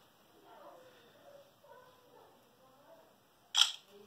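A single sharp camera shutter click near the end, following a stretch of quiet low talking.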